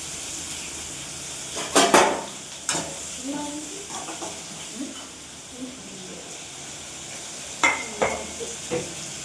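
Onion, tomato and potato sauté in a home kitchen pan, giving a constant soft sizzle with scattered metallic scrapes and knocks from stirring, louder clusters at the start and end, and faint voices in the background.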